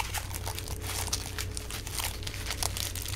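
Trading cards from a Lightning Overdrive booster box being shuffled together by hand, a steady close crinkling, riffling rustle lasting throughout with no talking.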